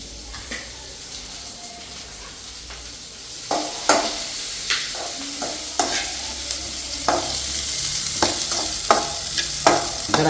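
Onions frying in a pan give a constant sizzle, punctuated by repeated scraping and tapping of a spoon stirring them at close range, louder toward the end.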